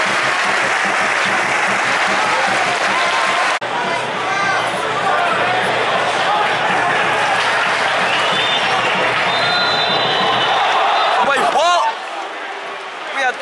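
Football stadium crowd at Watford versus Coventry applauding steadily for a minute, a dense sustained roar of clapping that fills the stands, with a voice talking briefly near the end as it fades.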